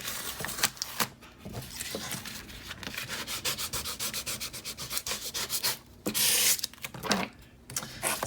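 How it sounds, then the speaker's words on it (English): Transfer tape being scraped down firmly onto vinyl for a dollar store Cricut craft, a steady run of close, rasping rubbing strokes with brief pauses between passes. "just really scrape this down so it sticks really well"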